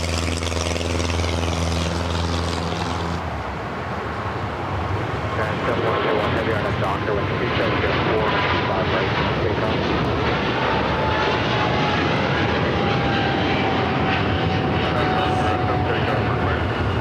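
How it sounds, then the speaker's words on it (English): A United Boeing 757-200 airliner taxis and holds to cross a runway at LAX. Its engines give a loud, continuous roar with a whining tone that slowly drops in pitch. "This United 757-200 waiting to cross over."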